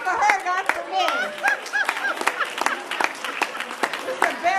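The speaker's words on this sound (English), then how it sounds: "you clap for her, not for me." Audience clapping at a Pride conference, scattered hand claps and applause from the crowd over laughter and overlapping voices, moderately loud and close.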